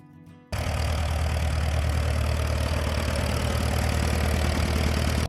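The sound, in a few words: Farmall Super A tractor engine idling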